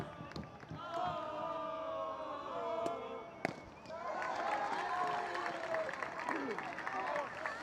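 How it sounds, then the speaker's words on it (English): A playoff high school baseball crowd cheering and applauding: a sustained roar of voices and clapping with a sharp crack midway, the noise rising again and holding steady, distant and fairly dense. "as the crowd erupts"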